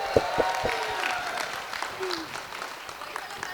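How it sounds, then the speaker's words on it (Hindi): An audience claps for a singer, with a few sharp near claps at the start giving way to a fainter, scattered spread of applause as voices murmur over it. "एक बहुत सुरीली वॉइस के लिए एक बार जोरदार तालियां एवरीबॉडी"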